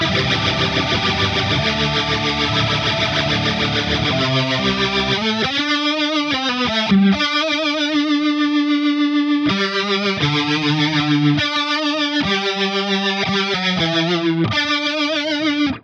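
Electric guitar through a Line 6 Pod 2.0 rotary-speaker effect, swirling and warbling, sustained notes and short chord phrases, loud and close, no talking.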